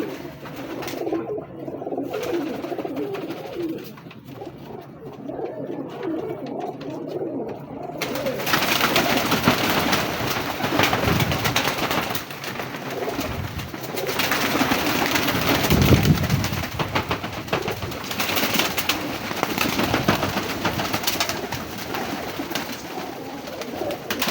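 Teddy breeder pigeons coo continuously in a loft, with many overlapping calls up close. The sound grows louder and denser after the first few seconds, with a little indistinct voice in the background.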